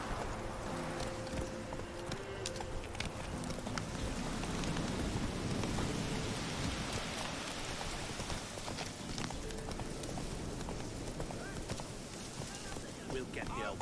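Horse Roach gallops in The Witcher 3 with steady clip-clop hoofbeats throughout, mixed with rain and a low wind wash, while a voice talks over the running.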